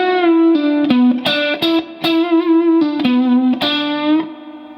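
A distorted electric guitar plays a slow phrase from a guitar solo, a string of sustained picked notes with bends and vibrato, each attack distinct, loud and close throughout.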